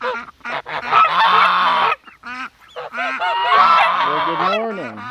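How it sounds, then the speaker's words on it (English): Ducklings on a homestead call loudly on a hot morning. Their harsh, honking calls come close and in bursts, with a brief lull midway before the chorus picks up again. "Let's check on our ducklings here."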